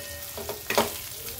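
Stuffed capsicum (bell peppers) with leftover spice masala frying in a pan as they are stirred, giving a soft, close sizzle with a brief louder scrape and hiss midway.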